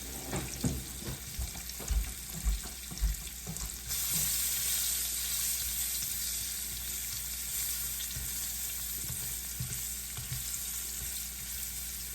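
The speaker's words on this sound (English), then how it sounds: "my onions in here for now. Saute those up." Onions sauté in a frying pan for a beef cube steak dish, a steady close sizzle with soft spatula scrapes and stirring clatters early on, then an even hissing fry that carries on alone.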